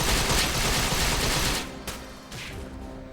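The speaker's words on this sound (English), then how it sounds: "Yeah, I can carry a minigun on me." A minigun in Vindictus rattles off a dense, continuous burst of rapid fire for over a second, then cuts off, leaving a few quieter mechanical clicks and a brief metallic whir.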